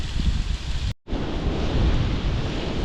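Strong wind buffets the microphone in a steady, loud roar outdoors on a rough climb near the Walls of Jericho, with a brief drop to near silence before the gusting resumes.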